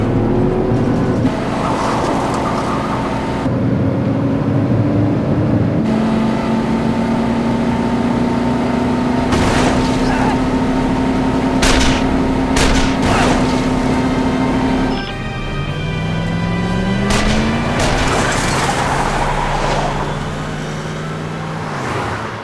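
Car driving off in a Back to the Future game, a motor revving and shifting with changing engine pitch, loud and near, surging and dropping through several gear changes with other game sounds around it and no talk.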